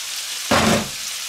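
A pan of potatoes with bacon and egg fries, giving a brief close burst of sizzling that swells suddenly and fades back into a low crackling hiss.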